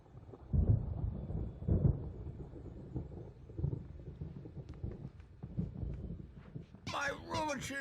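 Deep, rolling rumbles of thunder from an approaching storm in the Alan Wake video game come in several swells, followed by a burst of sharper, higher-pitched sounds at the end.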